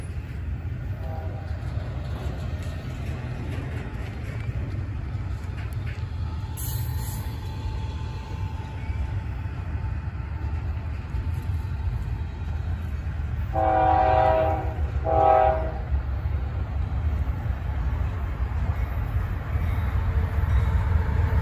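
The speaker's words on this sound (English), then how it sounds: "We got a train coming, look at that." A slow train rumbles steadily past at Lake Avenue, Blasdell, New York, its horn blowing two short blasts partway through over the continuous low roar of the wheels and cars.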